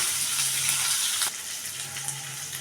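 Onions, curry leaves and green chillies hiss and crackle in hot oil with a steady, close, dense sizzle that eases slightly partway through, no voices.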